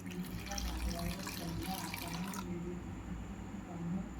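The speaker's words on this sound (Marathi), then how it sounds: "याच्यामध्ये आपल्याला पाणी ॲड करायचं आहे" Water pours into a pot while homemade cereal powder is being mixed, a steady close splashing rush that cuts off midway, leaving a quieter running trickle.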